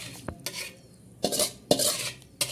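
Peanut chutney being stirred after a tempering of dried red chilli, mustard seeds and curry leaves is mixed in, giving several separate scraping and clinking strokes of a spoon against the bowl with quiet pauses between them.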